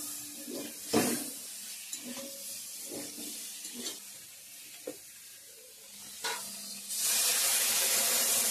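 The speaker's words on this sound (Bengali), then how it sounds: "মশলার সঙ্গে জল দিয়ে দেবো এখন" Water goes into a pan of fried vegetables and spices. Quiet scattered clinks and stirring bursts come first, then a sudden sustained loud sizzling hiss takes over near the end.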